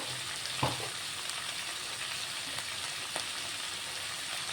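A bitter gourd and tomato curry is stirred with a spoon after salt goes in, a faint, low sizzle with a couple of soft spoon clicks against the pan.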